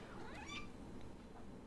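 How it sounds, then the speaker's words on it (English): A cat meows once, faint and in the background, with a short rising and falling call over a quiet indoor room hum. "that's my cat in the back"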